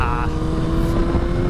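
A powerful motorcycle roars steadily at high revs while riding into a series of turns, its engine loud and close throughout, with a brief shift in pitch partway through; a rider's voice is faintly mixed in.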